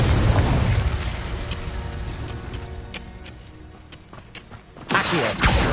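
In the Hogwarts Legacy video game, a Confringo blasting curse erupts in a loud, rumbling blast. The broadband roar with crackling debris holds for seconds, fades slightly, then swells again with a second burst near the end.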